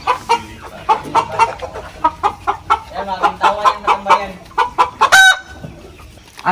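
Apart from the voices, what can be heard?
rooster crowing and clucking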